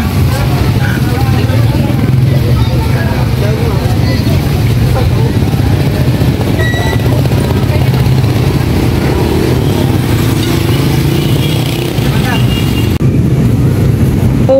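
Motor tricycle ride with a steady, close engine drone and low rumble running the whole time, road noise and occasional voices mixed in beneath it.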